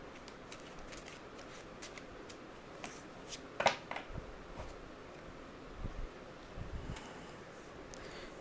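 Tarot cards are shuffled and drawn by hand, with faint, close scattered flicks and soft rustles and one brief sharper snap, over a low steady background hiss.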